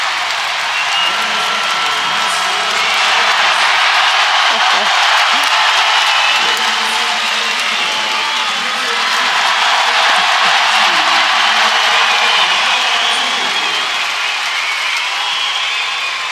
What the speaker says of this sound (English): Crowd is happy. Axel Clearshea got his opponent into the Osei Komi, by the way. If you're wondering why it's so loud now.